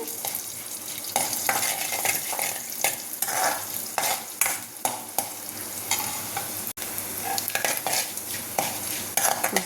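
Coriander seeds and cumin roast in a pan for a dried red chilli gongura chutney. A spatula stirs and scrapes them in steady, busy strokes over a soft, dry crackle, close by, with no talking.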